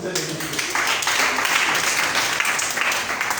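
Congregation applauding during a church service, a dense steady wash of many hands clapping that fills the space, with voices mixed in underneath.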